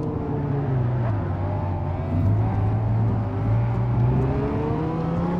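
Dodge Charger engine in Gran Turismo 5, a deep, throaty V8 drone rising and falling as it revs and pulls through gears, loud and steady, with no talk.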